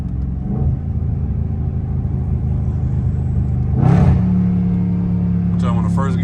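A catless Dodge Challenger Scat Pack accelerates hard in first gear, its engine a loud steady rumble heard from inside the car with a brief louder surge near the end.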